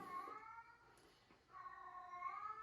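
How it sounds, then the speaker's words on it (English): A cat in heat yowling, drawn-out wavering cries in two long bouts with a short pause between, fairly faint and at some distance, with no speech. "that's my cat in heat."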